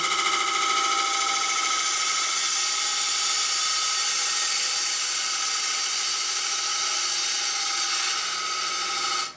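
A maple burl bowl spinning on a wood lathe while a gouge makes a light push cut with the bevel rubbing, a steady close, bright whirring hiss that runs continuously and drops away at the very end.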